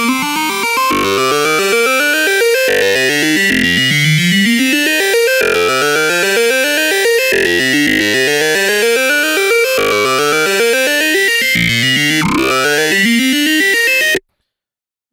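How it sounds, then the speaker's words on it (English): A talkbox-style synth patch in Native Instruments FM8 with an automated mouth, repeating vowel-like sweeping notes in a steady rhythmic pattern, loud and alone, cutting off abruptly at the end. "I've made a sort of little talkbox synth where I've automated the mouth of the synth"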